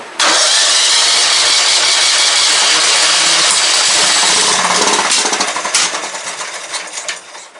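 An old Craftsman lawn mower engine cranks hard with air blown down the carburetor, a loud close mechanical churning that runs steadily and then sputters and fades toward the end.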